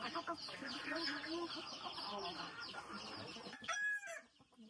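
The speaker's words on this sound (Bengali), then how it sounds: "কোনো মুরগি খাবার টাবার দেওয়া হয় নাই, খাবার খাওয়ার জন্য পাগল হয়ে আছে" Hungry native hens cluck and squawk together in a busy, continuous chorus, fairly close and loud, with a brief louder burst of calls near the end.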